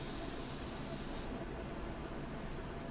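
Airbrush spraying through to clean out after white ink: a steady loud hiss of air that stays continuous, its bright spray edge cutting off partway while the airflow carries on, with no talk.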